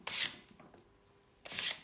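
Sandpaper rubs a bicycle frame on a gravel touring bike build in two short, close rasping strokes separated by a quiet pause.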